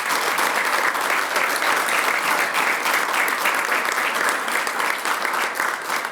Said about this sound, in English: why don't you join me in giving the honorees a round of applause?